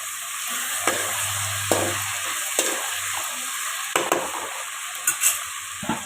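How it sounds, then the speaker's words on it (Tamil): Onions and tomatoes sautéing in a covered pan for a chicken thokku gravy: continuous soft sizzle with several sharp clicks and scrapes of a spoon or lid against the pan, and no voices. "இப்போ தக்காளி போட்டு மூடி வச்சுக்கலாம்"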